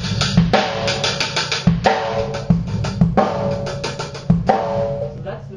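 A basic drum beat played with drumsticks, with close, crisp hits repeating in a steady groove for several bars and no talking.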